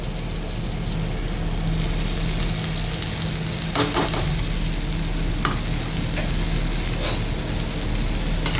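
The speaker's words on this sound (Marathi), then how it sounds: "आता ही आपण भेंडी बारीक चिरून घेतलेली आहे ना ती पण आता कढईमध्ये टाकून घ्यायची" Finely chopped okra fries in a hot kadhai with turmeric, onion and tomato masala, giving a steady, loud sizzle throughout, with occasional stirring scrapes and clatters standing out close by.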